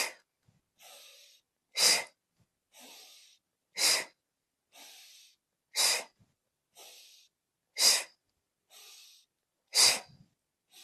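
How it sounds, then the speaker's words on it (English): Person exhaling forcefully through the mouth during a guided breathing exercise, close and loud. Five strong breaths come about every two seconds, alternating with softer nasal inhales, with no talking. "Exhale, chin down."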